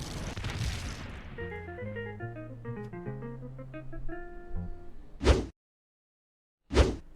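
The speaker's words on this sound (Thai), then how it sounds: "ระเบิดเลย" Two sharp, loud explosion bursts in the Plants vs Zombies Fusion video game, each a brief booming blast separated by silence, following a stretch of light game music.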